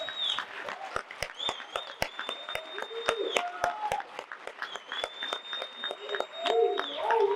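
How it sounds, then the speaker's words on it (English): Scattered, sharp hand claps ring out from a conference audience at a heavy-truck standing committee gathering. The claps are fairly sparse and uneven rather than a full ovation, with voices talking throughout. "Let's give them a round of applause."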